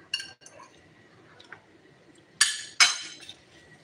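A spoon clinks against a drinking glass during morning kitchen preparation: two sharp, bright rings close together, preceded by a few lighter taps, with quiet room noise between them.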